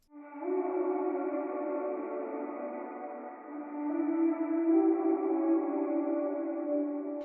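Layered, filtered ambient vocals hum a sustained melody for a melodic dubstep track. They hold steady and continuous throughout, swelling slightly in the second half, with no talking.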